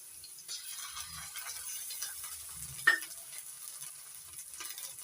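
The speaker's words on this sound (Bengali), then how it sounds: "রসুন বাটা আদা রসুন কাঁচা গন্ধটা তুলে দেওয়া পর্যন্ত একটু ভেজে নেবো" Ginger and garlic paste sizzles with browned onions in a pan for a jackfruit curry, a quiet steady frying hiss broken by one sharp scrape of a stirring spoon midway.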